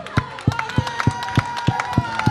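A church congregation at a Sunday morning worship service claps together in a steady, even beat, roughly three claps per second, over sustained music and voices.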